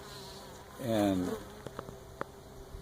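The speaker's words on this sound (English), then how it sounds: "There's over 1 million bees in the fields down here. Most of them honeybees," A honeybee or wild bee buzzes close by in a wildflower field, one short droning pass of about a second, followed by faint scattered ticks and quiet outdoor ambience; a brief word of speech is heard.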